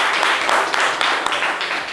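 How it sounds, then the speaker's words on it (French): Audience at a French live show applauding loudly and steadily for a volunteer about to sing, a dense continuous wash of many hands with scattered sharper claps throughout. "Applaudissez-le fort,"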